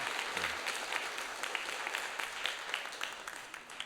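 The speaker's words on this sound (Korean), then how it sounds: "우리 일어나서 박수 한번 해주시고" Steady, dense applause from a church congregation standing to welcome a student, many hands clapping at once, filling the whole stretch at an even level before easing slightly at the end.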